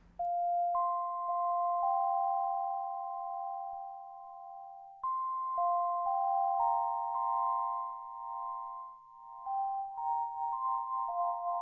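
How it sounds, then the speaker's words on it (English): A UDO Super 6 analog-hybrid synthesiser plays sustained pure tones with an LFO tremolo on the VCA, the notes stepping between a few pitches and pulsing gently in volume, clean and alone. "send some modulation from LFO1 to the VCA, which will just give some tremolo effects"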